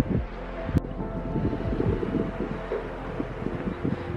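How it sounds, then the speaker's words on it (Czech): Outdoor wind gusting and buffeting the microphone, a fairly quiet low rushing with a brief sharp bump near the start. "Trošku tu fouká, trošku víc."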